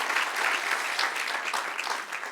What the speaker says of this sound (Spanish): Denle un aplauso al que es rey.